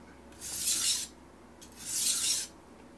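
Two slow, even passes of a knife across a Shapton Pro whetstone, each a close, smooth rasping stroke separated by a brief pause.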